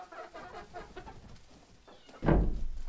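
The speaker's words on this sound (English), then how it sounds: "All the Rhode Island Reds are getting so big too." Rhode Island Red chickens cluck and murmur in a yard, soft repeated calls close by, followed by a louder rustle or thump.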